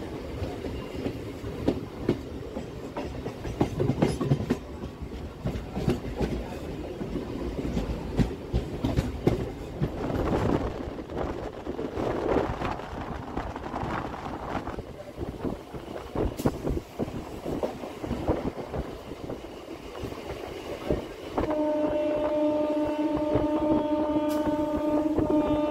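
Howrah–Barddhaman fast MEMU local train travelling at night, steady rumble and clickety-clack heard from inside the coach, ending in a sustained electric whine as it runs, with no talk.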